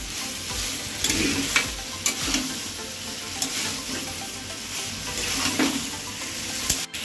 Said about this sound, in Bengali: একটু আলুগুলো একটু ঘেটে ঘেটে দিলাম